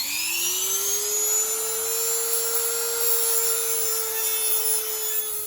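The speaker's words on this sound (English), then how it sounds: "I'm going to use a Dremel with a cutting tool on the end." A Dremel cutting wheel bites into a motorcycle chain link on an Aprilia RSV1000R Mille, giving a steady high-pitched whine that rises slightly, then holds for several seconds, close and fairly loud with no talking.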